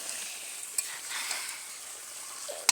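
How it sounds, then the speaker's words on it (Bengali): Meat being sautéed and stirred in a pan, heard as a faint, steady sizzle with a few light clicks and scrapes of stirring, fairly distant and quiet. "যে মামা কষাচ্ছে"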